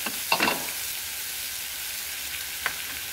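Squeezed onion frying in a pan gives a steady hissing sizzle up close, with a short burst of stirring clatter near the start and another brief clink later.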